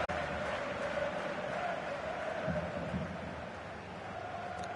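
A football stadium crowd fills the air with a continuous, dense wash of applause and murmur at a home match as players walk onto the pitch, with faint voices mixed in.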